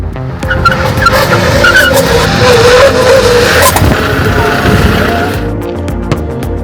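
A heavy 35-ton truck brakes hard with its tires skidding. A loud, sustained squeal rides over rumbling road noise for several seconds before fading.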